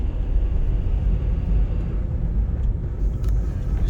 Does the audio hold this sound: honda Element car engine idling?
yes